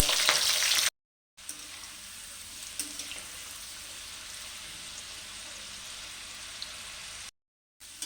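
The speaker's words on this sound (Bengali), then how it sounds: "ডাঁঠাটাও ভাজা হয়ে গেল" Continuous crackling sizzle of vegetable pieces frying in hot oil, close and steady, broken by two short silent gaps, with occasional light pops.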